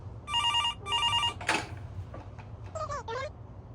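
A telephone rings with two close electronic bell bursts, then a short clatter and a fainter warbling ring follow, all fairly clear against a low background hum.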